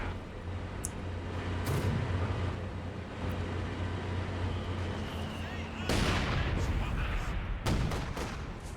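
An artillery barrage in a competitive video game match plays as a dense rumble of distant explosions and gunfire under continuous commentary, with sharper blasts breaking through near the end.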